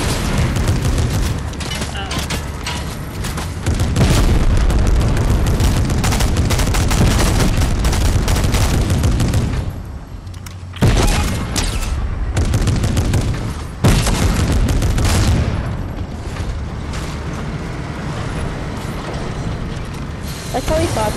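Rocket blasts and gunfire in Fortnite combat, dense and loud with heavy booms and rattling shots nearly throughout, a couple of brief drops in intensity, and voices talking over the chaos.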